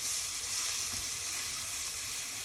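Onions and tomatoes sizzle steadily in a frying pan, a continuous close hiss of frying with a faint stir, no voices.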